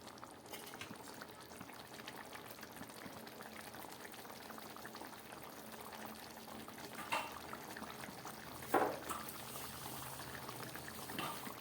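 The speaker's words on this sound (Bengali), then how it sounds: "একদম ফুটে উঠেছে" A pan of pabda fish curry bubbles at a steady simmer, a continuous soft gurgling broken by a couple of slightly louder pops near the end.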